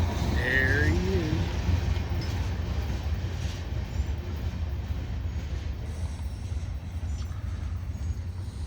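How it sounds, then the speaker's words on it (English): A UP/BNSF freight train rolling along the rails with a steady low rumble and clatter at moderate distance, a faint voice briefly heard near the start. "I'm gonna get 2 trains at one time."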